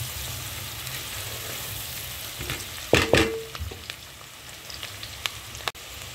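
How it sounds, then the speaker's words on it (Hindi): Chopped onion sizzles softly in a pan for a mixed vegetable salan, with a steady frying crackle, a sharp clink and stir of a utensil midway, and a few scattered taps, close and without talk. "बस इसको ना ज़्यादा फ्राई नहीं करना, हल्का सा इसको ब्राउन करना है बस।"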